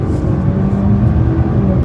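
A 2019 Jaguar XE luxury sedan accelerates, with a steady, loud engine drone and road rumble heard from inside the cabin and no talk over it.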